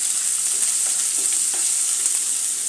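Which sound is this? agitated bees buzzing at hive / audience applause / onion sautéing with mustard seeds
onion sautéing with mustard seeds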